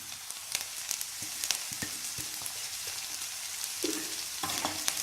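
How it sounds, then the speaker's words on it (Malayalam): Ginger, garlic and green chilli sautéing in a pan for a dried bitter gourd pickle, a continuous crackling sizzle broken by frequent sharp clicks and scrapes of the stirring spoon. "നന്നായിട്ട് വഴറ്റിയെടുക്കാം."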